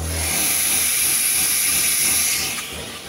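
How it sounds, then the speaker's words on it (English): Pump in a Mercedes W202 racecar with an OM605 engine sprays water mist, a steady loud hiss with a bright high edge holding throughout, close and unbroken, with no voices. "You hear the pump and see a lot of mist coming out."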